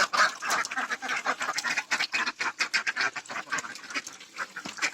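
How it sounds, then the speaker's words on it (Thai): A flock of home-raised ducks quacks continuously, dense overlapping calls from several birds close by, loud and busy throughout with no talking. "เป็ด เป็ดผมเองครับที่เพาะ"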